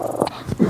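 A dog gives a short, close, whimpering yip in well under a second, alone with no talk.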